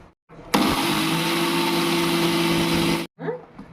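An electric mixer-grinder jar whirs loudly for about two and a half seconds as it pulverises mustard seeds into powder for traditional avakaya pickle, then stops abruptly, followed by a brief softer sound.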